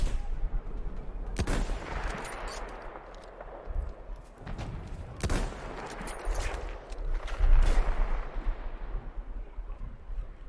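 Gunfire in a Battlefield video game: bursts of shots and sharp reports rattle through a busy battle soundscape, with several loud cracks standing out over continuous rumbling combat noise.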